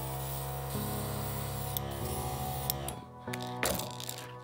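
An airbrush spraying yellow paint onto crankbait lures gives a steady airy hiss over a compressor hum, the flow shifting at points and cutting in and out near the end.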